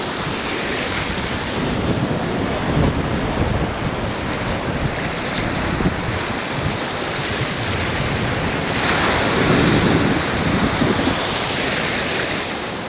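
Ocean waves roll and wash onto a beach in Rio de Janeiro, a continuous broad roar with swelling surges, mixed with heavy wind buffeting the microphone.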